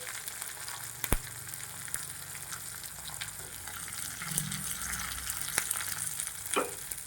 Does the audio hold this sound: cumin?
yes